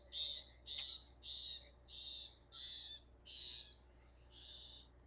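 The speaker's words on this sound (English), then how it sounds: "Do you hear the birds?" A bird repeats a short, harsh call seven times in an even rhythm, fairly close against a quiet background.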